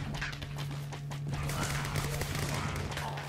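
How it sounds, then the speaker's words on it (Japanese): Fireworks burst in the video game Minecraft Dungeons as a rapid, crackling volley of pops over a steady low hum, dense and continuous across the moment, with no talk. "いい花火だ。"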